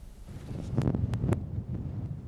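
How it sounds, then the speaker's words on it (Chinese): Strong wind on the eastern seashore as Typhoon Nanmadol approaches, a steady rushing roar buffeting the microphone with a few sharper gusts, no voices. "东部海边啊，风力已经慢慢啊增强"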